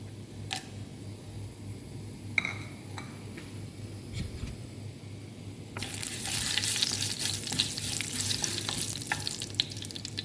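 Cumin seeds and cardamom, one large pod and four small, dropped into hot oil in a home kitchen, building into a dense, steady sizzle of frying after a few faint clicks and taps.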